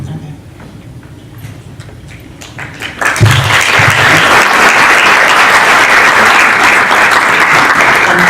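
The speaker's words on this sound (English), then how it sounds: "I think we should make that applause extensive" Lecture audience at a talk on human rights and debt in Argentina bursts into loud, sustained applause after a few seconds of quiet room murmur, steady and full to the end.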